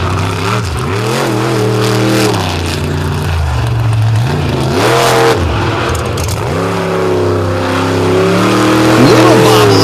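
A monster truck engine at the Indy Jamboree revs loud and close in repeated rising and falling surges at the launch, with a commentator talking over the roar.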